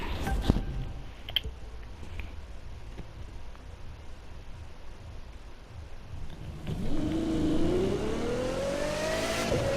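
A high-pitched car engine in The Crew 2 video game hums faintly, then revs up and climbs in pitch as it accelerates, growing louder toward the end.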